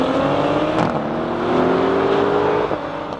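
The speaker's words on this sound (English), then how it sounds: "the mature thing to do at this point would be to have a drag race" A Mercedes-AMG GT S and a BMW M5 launch side by side in a drag race start without launch control, loud engines rising together in a steady sustained roar with shifting pitch.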